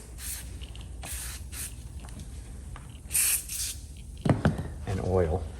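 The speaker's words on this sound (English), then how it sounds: "I'm just gonna use some glass cleaner to get this oil off." Several short, sharp spritzes of glass cleaner hit a vintage Cummins Model 336 drill nearby, followed by rubbing and wiping, with someone speaking briefly near the end.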